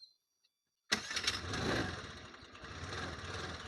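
Silence broken by a Honda Activa scooter engine starting up abruptly, then idling with a steady mid-pitched putter close by.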